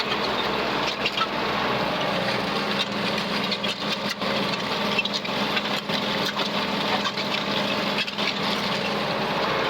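A Ford 7710 tractor drags an Allis Chalmers disk up a hill, its engine a loud, steady, unbroken drone with no voices over it.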